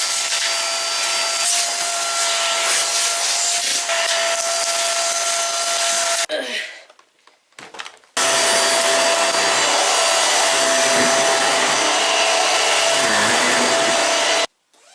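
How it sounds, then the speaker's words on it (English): Hoover vacuum cleaner running behind a sofa, a loud continuous roar that cuts off briefly, sputters, then resumes steadily before stopping abruptly at the end, with no talking. "I think I might need to get the Hoover out"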